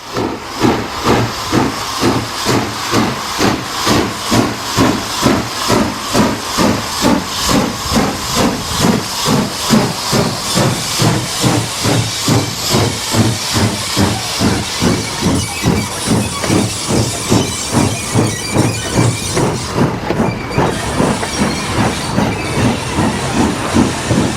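Steam locomotive at the Allerton Bywater Central Workshops chuffing steadily toward the exchange sidings, a loud rapid regular exhaust beat with continuous hissing steam throughout.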